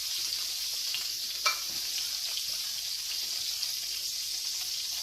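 Minced garlic sizzles in oil in a pan over low heat, a steady close hiss with one faint clink partway through.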